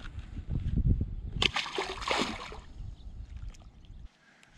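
A caught largemouth bass is put back into a canal with a loud splash and slosh of water, followed by softer dripping and lapping before quiet.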